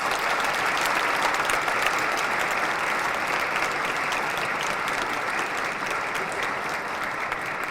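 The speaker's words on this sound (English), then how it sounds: "Senior class, give your parents a round of applause." A large commencement audience applauds the parents at a Holy Name High School graduation, dense sustained clapping filling the hall throughout.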